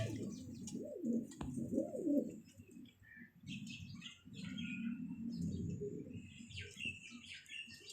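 Pet pigeons, including Kasuri and golden breeds, coo and chirp nearby in a steady run of low warbling calls, with a brief wing flutter and small bird tweets mixed in; no one speaks.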